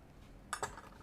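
A small kitchen knife cuts strips for Halloween treats, making two quick, faint clicks against the surface in close succession over a quiet background.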